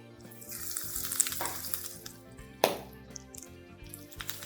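Capsicum sizzles in oil in a pan for pasta, crackling and hissing steadily while a spoon stirs and taps against the pan, with one sharper clatter midway.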